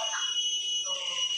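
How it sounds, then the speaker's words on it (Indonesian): Small electronic buzzer in a student wire-loop game project, sounding a steady high-pitched continuous tone for a moment. "ini buzzer mininya dia yang menyebabkan bunyinya."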